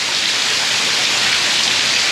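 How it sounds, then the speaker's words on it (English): Heavy rain pours over a screen room roof, a dense, loud, unbroken hiss of water with no pauses and no voices. "this is what happens when it rains real heavy"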